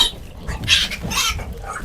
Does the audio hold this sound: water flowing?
no